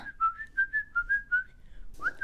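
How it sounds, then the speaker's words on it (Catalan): A girl whistles a song while walking into the forest. A clear, melodic whistle of short connected notes plays alone, with a brief pause before a final rising note. "va endinsar-se al bosc mentre entonava una cançó tot xiulant"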